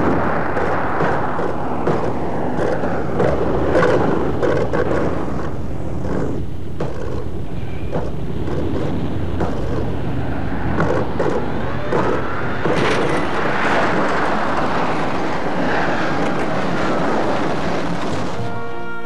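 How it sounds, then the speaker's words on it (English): A B-24 Liberator bomber makes an emergency landing with its nose wheel still raised, giving a loud, steady, broadband roar that continues unbroken for the whole stretch, with no voices. "the Liberator could be badly damaged yet still return to base, as this machine reveals in an emergency landing with the nose wheel still raised"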